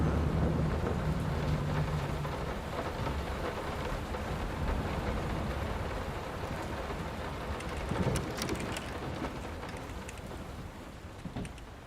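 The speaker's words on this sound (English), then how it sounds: "Oh, it's raining." Steady rain hisses over a low, rolling rumble of distant thunder, with a few sharper crackles near the end and no voices, in the video game Layers of Fear remake.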